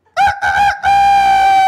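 A person imitating a chicken with a loud, close, crowing-style cock-a-doodle call in a few stuttered bursts that end in one long held note.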